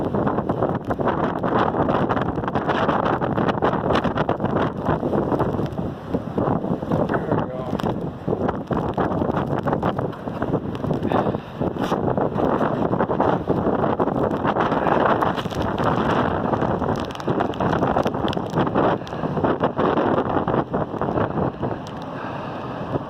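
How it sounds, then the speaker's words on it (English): Strong wind blows on the coast at Lincoln City during a king tide, with high winds and a building swell. A loud, constant roar of gusts buffets the microphone for the whole stretch, with surf rumbling underneath. "It's blowing so hard."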